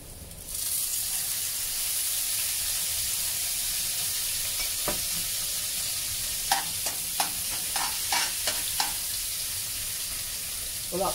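Curry paste and aromatics fry loudly in a hot pan right after a splash of wine goes in, making a steady close sizzle and hiss, with several sharp spatula clacks against the pan near the end.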